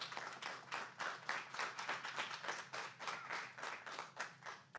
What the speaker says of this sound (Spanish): Vamos a recibirlo también con un fuerte aplauso.